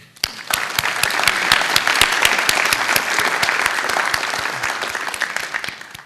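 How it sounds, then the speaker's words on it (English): Audience applause at an awards banquet: a dense, loud, sustained burst of many hands clapping together, steady for several seconds with no voices over it. "if we could all give him a big round of applause"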